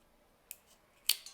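Weak scissors snip through craft material for a homemade fidget toy, two or three sharp close cutting clicks in quiet surroundings.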